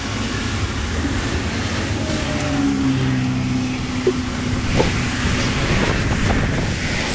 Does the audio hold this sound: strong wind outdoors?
yes